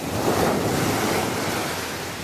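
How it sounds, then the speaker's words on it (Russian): Rough sea waves breaking on the shore near Genoa, a continuous loud roar of surf mixed with wind buffeting the microphone, with no voices. "Ну какое море жестокое."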